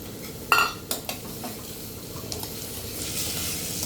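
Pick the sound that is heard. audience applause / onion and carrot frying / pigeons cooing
onion and carrot frying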